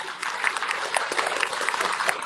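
An indoor audience at an Islamic study gathering breaks into lively applause, dense clapping from many hands sustained throughout with a few sharper individual claps standing out.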